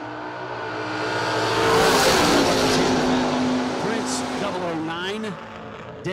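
At a drag strip, a Chevrolet Malibu and a Corvette Roadster launch down the lanes, engines swelling into a loud, rising roar that peaks and then recedes, while an announcer talks over the noise.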